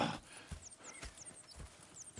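Horses in Red Dead Redemption 2 clip-clop with steady hoofbeats and let out whinnies, close and clear against soft in-game ambience, with no talking.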